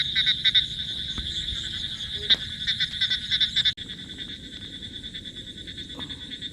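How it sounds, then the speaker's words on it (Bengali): Insects trill at night outdoors in a steady, rapid, high-pitched pulsing chorus. It is moderately faint, with a few soft knocks in the background. "এরকম ঝিঝি পোকার ডাকে সেই মজা লাগে"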